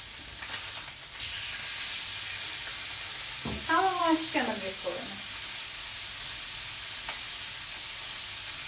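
Steady, hissing sizzle of chicken frying in a hot pan throughout, with a brief voice heard over it partway through.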